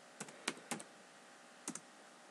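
A few crisp computer keyboard keystrokes click in a quiet room, a quick burst of three taps, a pause, then two more.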